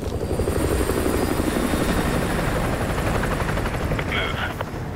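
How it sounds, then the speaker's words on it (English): An enemy helicopter patrols overhead in the video game Modern Warfare 2, its rotor chop loud and steady throughout, with voices talking over it. "Enemy helo patrolling the perimeter"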